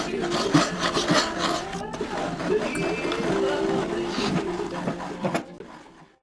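A cutter passes over wood while a wooden nut is being made, producing a continuous rasping, rubbing grind that rises and falls in close strokes and then fades to silence at the end.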